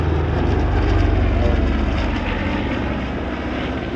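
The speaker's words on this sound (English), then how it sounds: "The crowning glory of the HARS fleet is probably their C-121C Super Constellation" The piston engines of the HARS C-121C Super Constellation at the Shellharbour airshow give a loud, close, continuous pulsing propeller drone that stays strong and steady throughout.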